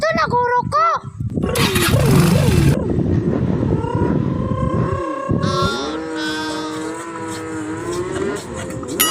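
A new Kawasaki Ninja 1000cc motorcycle engine rumbles and revs with a brief loud roaring burst, then settles into a steady droning hum. Voices talk over it.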